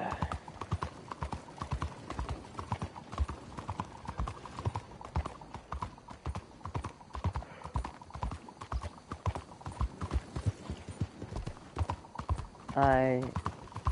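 Horse hooves clip-clop in steady rhythm throughout as a horse is ridden in the online Western video game Red Dead Redemption, with a player talking over the steps and a brief whinny near the end.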